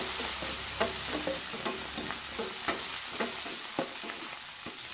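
A spoon stirring cream cheese as it melts in a pan with pork chops and mushrooms, a soft continuous sizzle broken by repeated scraping clicks of the utensil against the pan.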